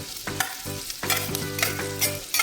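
Onion frying in a pan for methi bhaji, a bright sizzle broken by repeated scraping strokes of a spoon stirring, close and loud with no voices.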